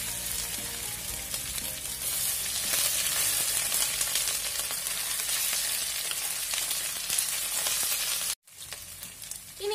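Curry leaves with crushed ginger and garlic sauté in hot oil for a Kerala karimeen curry, giving a loud, steady sizzle and crackle throughout that cuts out abruptly near the end before resuming.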